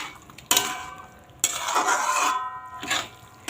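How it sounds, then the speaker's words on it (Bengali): A spoon stirs sugar into food in a cooking pot, giving a few scraping, clinking strokes against the metal in separate bursts, close and moderately loud. "ভালো করে নাড়িয়ে নেব।"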